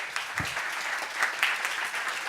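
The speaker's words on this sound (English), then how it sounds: "Please give her a round of applause." A debate chamber audience applauds, a continuous, moderately faint wash of many hands clapping that holds evenly for a couple of seconds with no voices over it.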